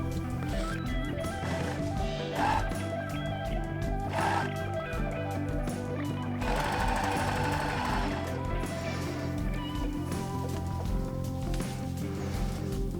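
A sewing machine stitches the small edges of a fabric scrunchie together, a continuous close mechanical hum that runs throughout, mixed with a busy, dense background.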